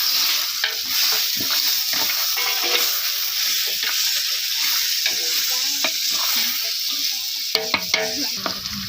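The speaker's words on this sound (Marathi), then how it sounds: "चांगला आपल्याला मटण असं हलवून परतून घ्यायचं" Mutton pieces stirred and fried in a pan, a loud continuous sizzle with steady scraping and clinking spoon strokes throughout, close up, with no talking.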